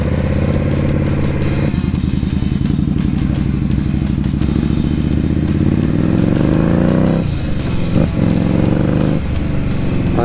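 Indian motorcycle ridden by a Harley rider, its engine droning steadily and close throughout with a smooth, continuous tone and slight shifts in pitch as it cruises along.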